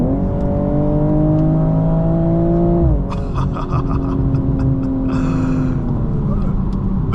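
Inside a 2024 BMW M240i xDrive in Sport Plus mode, the engine drones and climbs steadily under acceleration, then drops sharply at a gear change before pulling again, loud and continuous.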